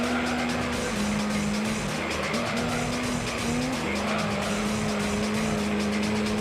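A Mazda RX-7 in Gran Turismo 3 holds a steady, loud engine drone, with tires squealing and skidding through corners. The sound runs continuously without a break and no one speaks.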